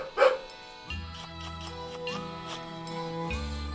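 A dog in the Detective Bumsted video game gives a short, close bark followed by softer whimpering yips over game music.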